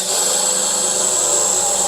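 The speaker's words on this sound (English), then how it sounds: "I'm going to drill some holes in it." A steady, high-pitched power drill whine runs continuously, close and loud, boring holes into a lightweight fiberglass container.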